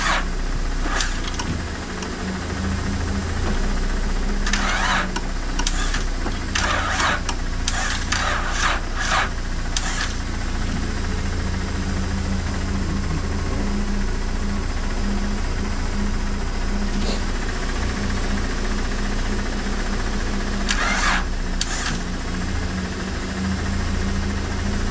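A 6-speed Acura TL that has sat unused for two years is cranked over in clusters of rattling starter bursts, all above a constant, close engine drone from another car idling nearby.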